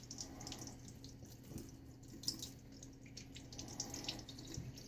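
A bathroom tap runs steadily to wet a shaving brush, a soft, continuous trickle of water at close range with no talking over it.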